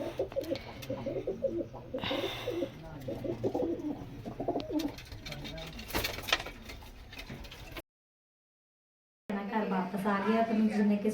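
Pigeons coo in low repeated calls amid people talking nearby, briefly cut to silence before the cooing and chatter resume.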